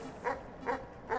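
A dog barks in the video game Animal Well, three short, evenly spaced yips in quick succession over a soft background hum.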